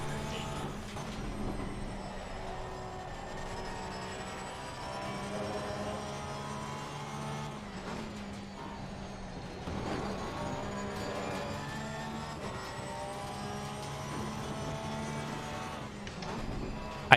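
Race car engines in the SRA sim racing game at Brands Hatch drone with tonal whines that rise and fall through gear changes and cornering. A dense field of several cars stays close, and the sound runs continuously for the whole stretch.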